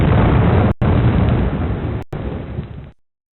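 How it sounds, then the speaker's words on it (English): A sound effect for an exploding red giant star, a loud, dense rumbling blast that persists for about three seconds, cut by two short gaps, then fades out abruptly. "The red giant will explode and the interstellar matter will separate into a circle of matter"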